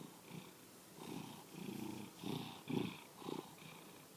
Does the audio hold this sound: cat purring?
yes